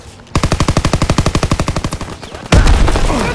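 A machine gun in the Call of Duty WWII game fires a rapid burst of about twenty evenly spaced loud shots, then a heavy blast or impact follows with rumbling debris.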